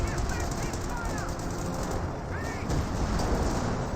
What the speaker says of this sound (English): Artillery is running on in here as well.